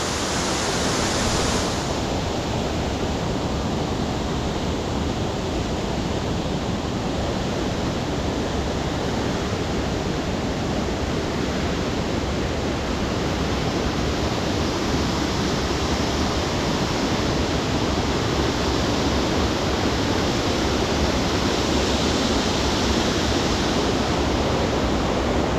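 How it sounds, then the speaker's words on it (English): Whitewater rapids of a waterfall pouring down beneath a road, a dense, constant roar of rushing water, loud and unbroken for the whole duration. "there's always going to be whitewater rapids coming down"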